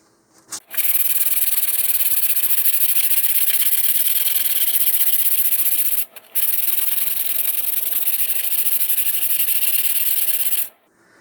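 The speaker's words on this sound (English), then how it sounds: "I'm going to start with 150 grit sandpaper and then move to 220." Putty on an Estes Der Big Red Max model rocket is sanded with 150 grit sandpaper, a loud, close, steady hiss of rubbing in two long passes split by a brief pause.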